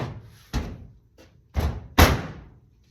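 The door of a toolbox closes with a few sharp knocks and thuds, the last two louder and close together, each followed by a brief rattle.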